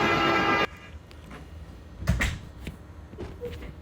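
A train sound effect, triggered by pressing a button, plays briefly as a loud rumbling burst that cuts off abruptly, followed by quieter clunks and a thump.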